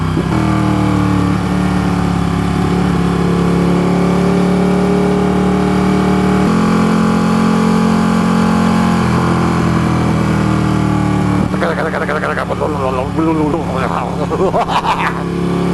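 A Ducati 1299 Panigale S sport motorcycle engine runs with a steady, loud exhaust drone that rises and shifts in pitch toward the end, close by and continuous.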